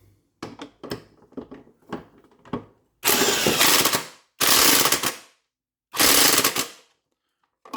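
Impact gun driving a bolt on a Lawnboy push mower, the worn tool firing three loud, long rattling bursts after a few lighter clanks and knocks of handling, with short pauses between bursts and no talk.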